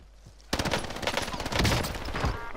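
After a quiet start, a sudden dense burst of rapid video game gunfire erupts and keeps going as a loud, continuous rattle of overlapping shots.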